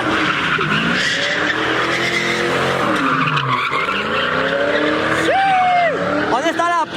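A green Ford Mustang skids at a crowded car meet, its tires squealing in long wavering howls under engine noise, with people talking and shouting over it.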